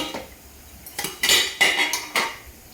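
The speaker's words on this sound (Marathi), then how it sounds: "तर चला आता मी झाकण जरा खोलून बघते" A plate used as a lid is lifted off a pan of dry besan steaming inside, with a short run of loud metallic clanks and scrapes of dishware close by after a quieter opening.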